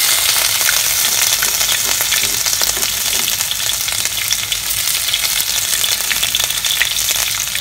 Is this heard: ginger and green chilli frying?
yes